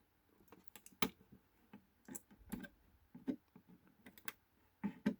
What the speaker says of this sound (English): let's see if we can get these bits of plastic lifted